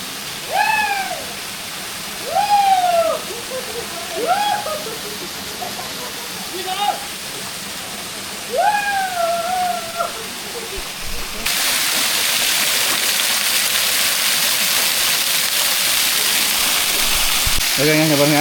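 Waterfall water flowing at a forest bathing spot, a steady broadband rush that swells louder in the second half, with birdlike calls and someone talking over the first part.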